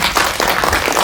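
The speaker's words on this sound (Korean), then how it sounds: "배우님 이명주 배우님께도 박수 한번 부탁드릴게요." Audience applause for actress Lee Myung-joo at a film screening Q&A, a loud, close burst of dense clapping filling the whole second.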